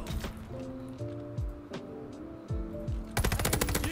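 Gunfire in the Call of Duty video game: a few sharp shots over a game soundscape with tonal effects, ending in a dense rapid burst of automatic fire.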